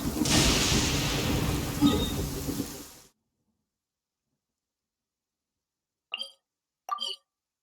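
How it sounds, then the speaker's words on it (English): Rain falls with a low rumble of thunder in the Genshin Impact video game, a dense, moderately loud wash that cuts off abruptly after about three seconds, followed by silence and two brief voice bursts. "The rain stopped."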